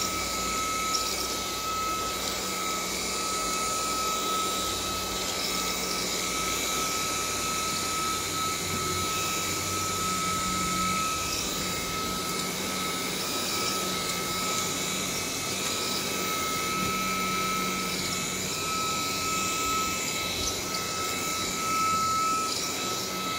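A DreameTech T30 cordless vacuum cleaner runs on a living room carpet, its high motor whine steady and close for the whole stretch, with faint rustling of the brush head beneath.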